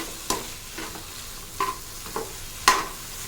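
Onion mixture softening in oil in a pan, a quiet steady sizzle broken by a few sharp scrapes and clinks of a spoon stirring, no talking.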